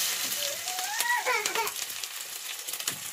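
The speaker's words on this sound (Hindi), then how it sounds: "अब हम इसमें जखी का तड़का डालेंगे, ये देखिए ये डाल दिया जखी का तड़का" Cumin and spices hiss and crackle in hot oil, a steady close sizzle throughout, with a brief voice in the middle.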